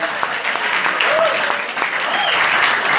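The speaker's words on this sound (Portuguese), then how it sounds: "Palmas para o corajoso." A crowd claps continuously in a dense, steady burst of applause, with a few voices faintly audible underneath.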